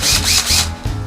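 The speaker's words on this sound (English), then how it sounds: "I got a countersink bed on my 18-volt Makita drill" An 18-volt Makita cordless drill fitted with a countersink bit bores into wood in a workshop, its motor whining loudly and steadily in a couple of short surges with no talk.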